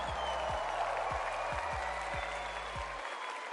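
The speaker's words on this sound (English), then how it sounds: "Make some noise for him." Crowd at a live Fortnite FNCS Global Championship 2023 event cheering and applauding loudly, a dense sustained roar of clapping and voices filling the arena, with low rumbling thumps underneath, fading near the end.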